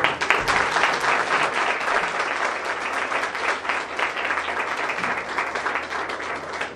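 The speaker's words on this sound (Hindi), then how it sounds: "ताली धीरे से बजी है।" Steady applause from a church congregation during an evening of praise and worship, a dense, continuous patter of many hands at a fairly soft, even level with no break.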